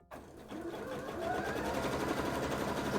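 A sewing machine runs steadily, stitching a wide zigzag along a fabric edge to stop it fraying, a close, continuous mechanical whir that holds for the whole stretch with no talking.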